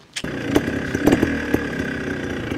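An SWM motorcycle engine starts abruptly and then idles with a steady, close mechanical rumble, punctuated by a few sharp clicks and knocks.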